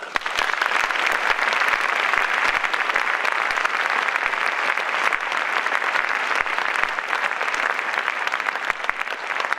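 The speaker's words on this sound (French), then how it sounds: "J'aimerais qu'on les applaudisse." An audience at the closing ceremony of the La Roche-sur-Yon international film festival applauds the volunteers with steady, dense clapping, individual sharp claps standing out across nearly ten seconds of continuous applause.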